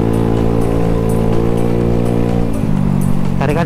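A Honda Scoopy scooter engine drones steadily and loudly throughout while riding, its pitch shifting mid-way as it pulls, with rushing wind and road noise beneath.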